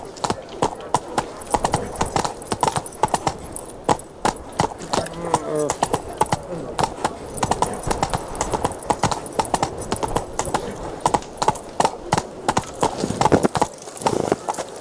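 Roach, a horse in The Witcher 3, gallops with a rapid, rhythmic clip-clop of hooves throughout, loud and close, with a brief voice in the middle.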